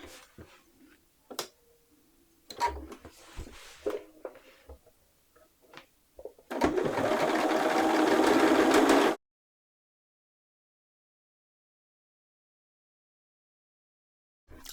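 Sewing machine stitching a reference line on an armband for an Elizabeth Suzann Georgia midi dress: a steady whir of roughly two and a half seconds after scattered handling clicks and taps, then silence.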